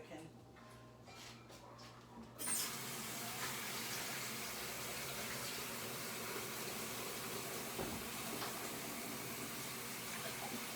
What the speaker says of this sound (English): Let me fill this up with some hot soapy water